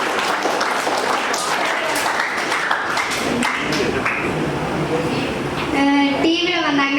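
Applause from a congregation in a church during a confirmation ceremony, a crowd clapping under someone speaking over it, fading toward the end as other sounds come in.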